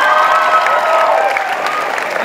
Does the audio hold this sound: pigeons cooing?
no